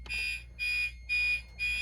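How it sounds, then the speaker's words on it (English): Fire alarm from an H365R IV heat detector under test, sounding in four evenly spaced loud electronic beeps with short gaps between them, close and with no speech. "It's an alarm."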